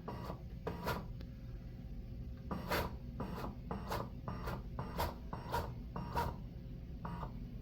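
Mechanism of a Siser Juliet print-and-cut machine being engaged, a series of soft rhythmic clicks and ratcheting ticks, about eight evenly spaced snaps over a faint steady hum, quiet and close.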